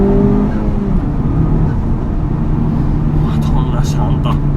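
Honda Civic Type-R FK8 engine running close by, a steady low harmonic drone shifting in pitch as it revs, with someone talking over it.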